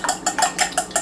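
A custard tart mixture with a little milk being whisked in a bowl, the whisk striking the bowl in five or six quick, even, close strokes.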